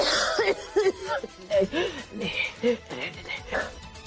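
An older woman gives a series of short, dry coughs and throat clearings in quick, uneven bursts, close and moderately loud indoors.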